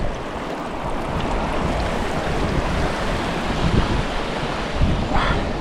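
The Guadalevín river rushing after heavy winter rain in the Sierra de las Nieves, a loud, continuous roar of churning water with some wind buffeting the microphone.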